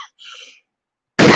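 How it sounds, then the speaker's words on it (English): A person coughs once sharply and close, after a short faint breathy sound and a pause of silence. "I always start coughing when I talk"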